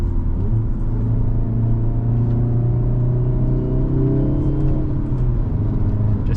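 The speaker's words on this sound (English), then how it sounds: "Just keeping the revs low, of course" A brand-new 2025 Hyundai Elantra N engine held at low revs, giving a steady, close, loud rumbling drone with a deep hum throughout and no talk.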